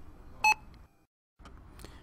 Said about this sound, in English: the barcode that initiates the sequence also gives a single beep